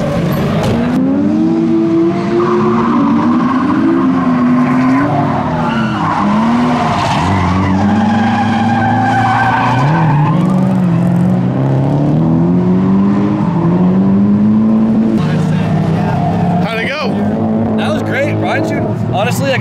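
A BMW E30 drift car at full throttle in a private drift session, its engine screaming and rising and falling in pitch with long tire skids, loud and continuous throughout, with a voice talking over it.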